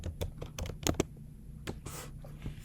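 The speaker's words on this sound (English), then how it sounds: "I'll just type it." Close, fairly loud typing on a computer keyboard: a quick run of sharp key clicks, then a brief pause and a few more taps.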